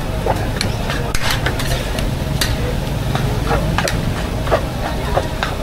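Kuey teow is stir-fried at a night market stall in Changkat Jering, Taiping, Perak, with a continuous loud sizzle and a rhythmic series of sharp metallic scrapes and clanks of the spatula against the wok.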